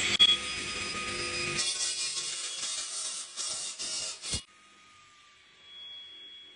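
A saw blade cuts through a concrete chaînage block with a loud, steady grinding roar for about four seconds, then stops abruptly, leaving near silence.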